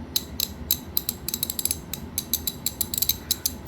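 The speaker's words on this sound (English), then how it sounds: "so you guys can get a before and after sound of these ratchets" Dry, unlubricated socket-set ratchet clicking in quick irregular bursts, sharp crisp ticks repeating close up with no other sounds.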